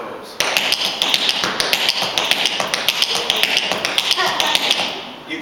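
Crisp toe and heel taps from tap shoes ring out in a fast, steady stream of bright metallic clicks, close and fairly loud, with no talking over them.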